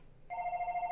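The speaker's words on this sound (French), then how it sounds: "Ah, ok, non, ça c'est le téléphone." A telephone bell begins ringing abruptly a quarter second in, a steady electronic trill that sounds moderately close and stands alone with no voices over it.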